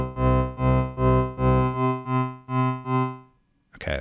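Gritty, drive-distorted synthesizer pipe organ chords pulse in a steady rhythm, seven loud sustained hits, before the sound cuts off with a brief click.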